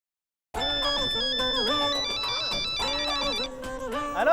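A phone ringtone plays a loud, bright electronic melody of stepped tones that repeats continuously after a brief silence, close and alone without voices.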